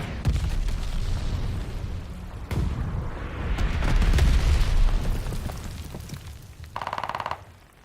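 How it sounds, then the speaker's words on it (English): A glide bomb detonates in the Call of Duty Vanguard multiplayer game, a loud, sustained roar of blasts and rumbling booms swelling mid-clip, with a short burst of rapid popping near the end. "Enemy's got a glide bomb incoming."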